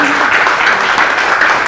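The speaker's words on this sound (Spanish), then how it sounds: "Reiteramos el aplauso entonces por esta exposición" Applause from a conference audience after a lecture, a short, loud, continuous patter of clapping close to the microphone.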